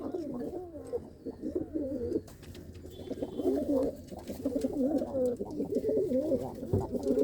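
Racing pigeons coo continuously in rolling, overlapping calls, close and fairly loud, with a brief dip in the middle before the cooing swells again.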